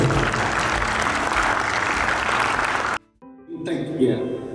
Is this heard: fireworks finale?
no